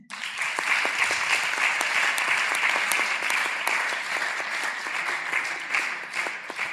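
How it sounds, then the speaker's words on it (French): A church women's conference audience applauds and cheers steadily, dense sustained clapping at a fairly even level for several seconds, with no speech over it. "Dans ces cas, acclamons pour les seigneurs."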